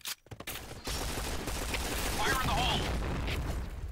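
Gunfire from Point Blank deathmatch on the Desert Camp map, a P90 in play: a rapid sustained burst of shots after a couple of sharp initial cracks, dense and fairly loud, with a faint voice briefly audible within it.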